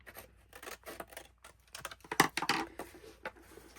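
Scissors snip through paper in a string of short, close, crisp cuts with brief pauses between them, fairly quiet and with no talking.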